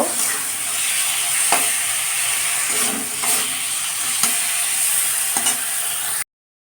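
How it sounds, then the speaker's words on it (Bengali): Cauliflower, potato, tomato and green chili fry in hot oil with a loud, steady sizzle close up, broken by a few faint clicks of stirring and no speech. "ফুলকপি আলু টমেটো কাঁচা লঙ্কা সব তেলে ছেড়ে দিলাম"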